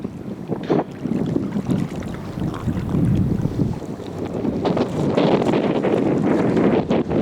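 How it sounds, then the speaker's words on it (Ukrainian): Strong wind buffets and roars continuously on a fishing trip, gusting harder toward the end, with water sloshing nearby and no voices. "Вітер вже потужний вітер, я не знаю, зриває спінінги"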